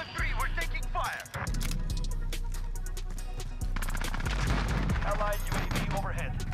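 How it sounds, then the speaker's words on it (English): Call of Duty Modern Warfare gunfire, with rapid bursts of shots crackling repeatedly over a steady low rumble and game radio chatter. "We're taking fire."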